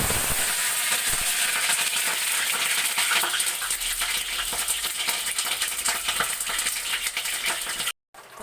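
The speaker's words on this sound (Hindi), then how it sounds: "उसमें हम डालेंगे गोभी जो हमें फ्राई करनी है" Cauliflower fries in hot oil with cumin, a steady close sizzle with light rattling and stirring throughout, cutting out abruptly near the end.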